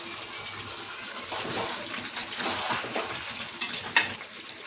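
Potatoes going into a pan of chicken cooking for a taro and chicken curry, giving a loud, steady sizzle with a few sharper splashes and clatters partway through, and no talking.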